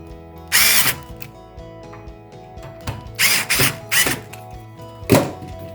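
A SKIL 4V cordless screwdriver drives screws into a loosened hand railing, with several short, loud whirring bursts spaced apart and faint handling clicks between them.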